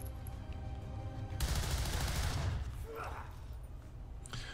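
Weapon fire bursts out in the video game XCOM 2 during a Halo Reach mod mission in a zombie-infested city, a loud sustained volley of rapid shots that tails off into faint effects and ambience.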